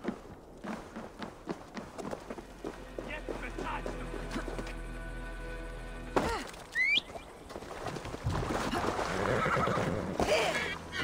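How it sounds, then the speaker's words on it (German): A horse neighs briefly in Assassin's Creed Valhalla amid footsteps and clattering sounds, with a voice speaking at times and a louder rush of noise toward the end. "Oh, Pferd!"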